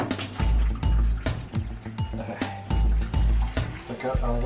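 Water draining and splashing during a water change on a saltwater reef aquarium, heard as repeated close gurgling pours and drips alongside regular thumping knocks, fairly loud.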